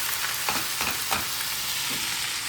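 Steamed snake gourd frying in a tempering of whole dried red chilli and nigella seeds, a steady close sizzle with a few stirring scrapes.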